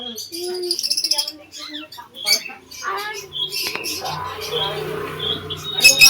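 A bird chirps indoors in a home, with quick high tweets mixed with household noise and people talking throughout.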